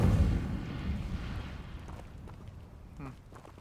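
An Incendio fire spell cast in Hogwarts Legacy, a loud whooshing fiery burst at the start that decays over a couple of seconds into a low rumble, followed by faint small clicks.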